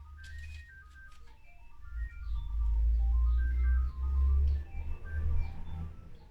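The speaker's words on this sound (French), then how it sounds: "mon téléphone sonne" A mobile phone rings with a bright, repeating melodic ringtone of rising and falling notes. It sounds close and clear above a loud low rumble in a room during a card-making craft session.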